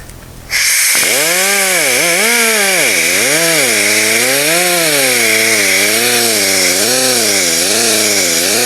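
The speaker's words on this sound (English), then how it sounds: "we'll hit it with a polishing compound just to finish it off." Power polisher working compound over a classic car lens, a loud close whine that starts abruptly and wavers up and down in pitch as the tool loads and eases across the surface.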